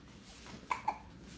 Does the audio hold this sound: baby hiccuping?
yes